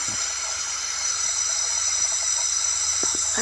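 Continuous, even hiss of a facial steamer releasing steam during a skincare routine, close and steady for the whole stretch with no speech.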